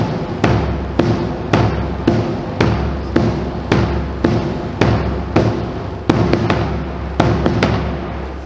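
Marching bass drums play the opening loop of a cadence, a steady stream of evenly spaced booming hits at roughly two per second, loud and close, with no talking.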